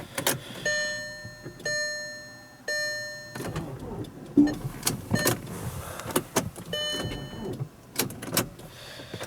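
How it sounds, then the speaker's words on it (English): A green 2005 Volkswagen Passat TDI, left sitting for four or five weeks, undergoes a cold start attempt: rhythmic ticking and clicking are followed by short, uneven bursts of cranking-like noise close by, with no voices. "Thought I'd do a cold start on my green Passat."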